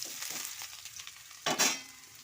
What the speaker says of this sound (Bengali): দিয়ে আমি প্রথমে এঁচড়টাকে ভেজে নিচ্ছি।